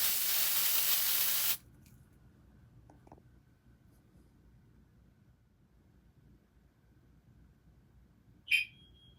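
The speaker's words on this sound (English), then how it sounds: "So let's start by spraying this." A loud, steady hissing spray runs for about a second and a half, then cuts off into near silence, with a brief sharp chirp near the end.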